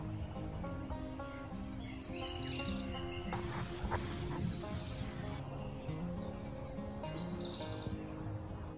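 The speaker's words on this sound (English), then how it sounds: "I was then pleasantly surprised to hear the song of a Wilson's warbler" A Wilson's warbler sings at Sequoyah during migration, three short high chattering bursts spaced a few seconds apart, fairly faint against a soft background of other birds and insects.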